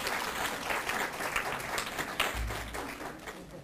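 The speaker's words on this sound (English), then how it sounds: "Can we have some applause, please" Audience applauding at a convocation ceremony, continuous scattered clapping from a mid-sized crowd in a hall, fairly faint and steady throughout.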